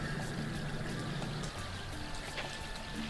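Water movement in a Looney Tunes video game as a character is in the water, a steady watery swirl with light game music and effects over it, no speech.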